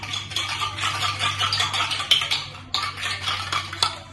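A spoon scrapes and clinks against a bowl or pan, mixing sugar into an evening snack mixture with a quick, continuous rattle of stirring close by, over a low steady hum.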